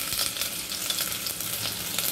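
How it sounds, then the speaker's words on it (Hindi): Chopped ginger and garlic frying in a spoonful of oil, a steady close sizzle with soft crackles running throughout, no voices. "अदरक लहसुन को मैंने हल्का भून चुकी हूँ"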